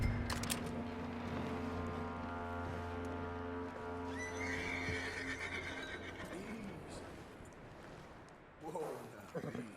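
A horse neighs loudly near the start in Red Dead Redemption 2, followed by snorting and a few hoof sounds against a steady background hum, with another brief whinny near the end.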